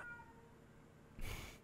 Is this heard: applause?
no